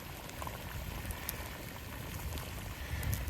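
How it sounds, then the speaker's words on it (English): Pot of water at a roaring boil cleaning marten traps outdoors, a dense steady bubbling and hissing churn with occasional sharper pops, fairly faint and continuous. "Yeah, that water's, she's a roaring boil."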